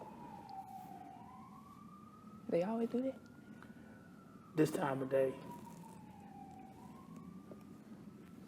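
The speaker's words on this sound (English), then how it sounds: "Gotta wait a minute again. I got the sirens." A siren wails steadily in the background, rising and falling at moderate distance, while two brief bursts of conversation break in partway through.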